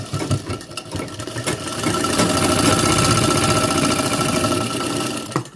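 A tailor's sewing machine stitching a hook strip on garment fabric, a loud rhythmic mechanical whirr that builds after a few short bursts and runs steadily for several seconds before stopping.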